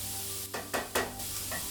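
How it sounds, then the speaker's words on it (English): Chopped carrots and onions sautéing in a pan for mini shepherd's pies, a soft continuous sizzle broken by three quick stirring scrapes close by. "We're going to saute the carrots and onions until they're translucent"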